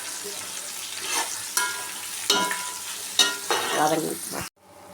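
Onions frying in a pan with green chillies for Hyderabadi biryani, a steady sizzle broken by several rough stirring scrapes, close and fairly loud, cutting off abruptly near the end.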